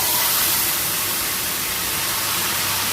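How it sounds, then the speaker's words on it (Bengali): Nigella seeds and green chilli sizzle in hot oil in a wok, a loud steady broadband hiss that holds unbroken from start to finish with no speech. "কড়াইয়ের মধ্যে কালো জিরে আর কাঁচা লঙ্কা ফোড়ন দেব"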